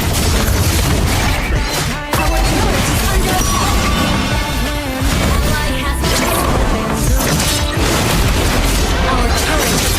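Loud, dense explosion and crashing impacts as a turret is destroyed in a MOBA-style video game battle, layered over constant music and game effects, with a game voice announcing over the din.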